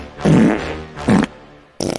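A fart sound effect opens a comedy podcast intro: two loud, close blasts in quick succession, then a third, rattling one begins just before the end.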